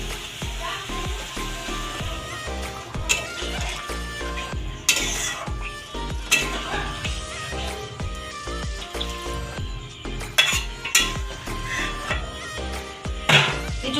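Hot water goes into a pan of Bengali egg curry (dim kalia) with boiled eggs and masala, setting off a steady loud sizzle and bubbling with occasional clinks of a spoon against the pan.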